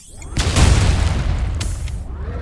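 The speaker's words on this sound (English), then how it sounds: "let's say, cause an explosion real quick" An explosion in the shooter game ULTRAKILL hits with a deep, loud boom that rolls out and decays over a couple of seconds, with a sharp crack partway through.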